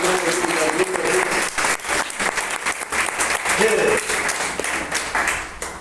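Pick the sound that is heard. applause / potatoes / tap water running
applause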